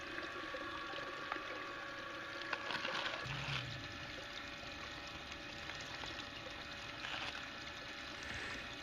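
Water runs steadily through a three-way silicone mat sluice used for gold prospecting, a continuous soft rushing and trickling with a slightly uneven flow, faint and close with no voices.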